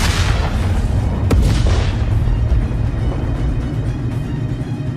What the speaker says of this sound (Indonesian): Kemudian, ledakan besar terjadi.